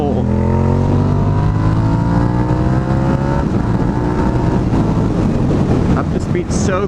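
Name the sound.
Suzuki SV650 motorcycle accelerating in third gear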